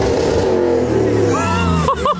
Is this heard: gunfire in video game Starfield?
no